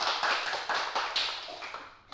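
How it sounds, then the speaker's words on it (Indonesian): Classroom applause for a student, a quiet patter of light hand claps from a small group, coming in uneven bursts and fading out over about two seconds. "tepuk tangan buat Mbak Kayla."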